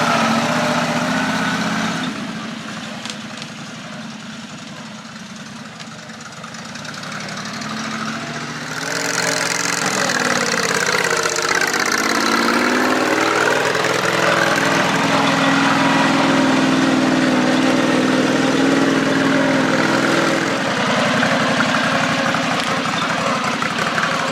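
Small engine of a John Deere 214 lawn tractor built as a mud mower, running steadily through a test drive, loud and close, its pitch rising and dipping as the throttle changes, droning without pause.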